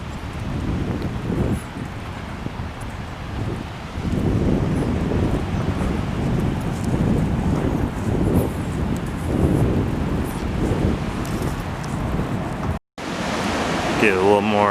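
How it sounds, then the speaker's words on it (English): Ocean waves surge and break continuously at Monterey Bay Park near sunset, with steady wind rumbling across the microphone; a brief dropout near the end is followed by a short burst of different noise. "Get a little more of the waves at Monterey Bay Park."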